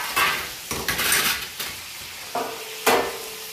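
Roasted eggplants lifted from a hot pan onto a metal plate for a Maharashtrian khare vange dish, with several sharp clinks and scrapes of utensils against metal, one near clatter after another, under a faint background sizzle.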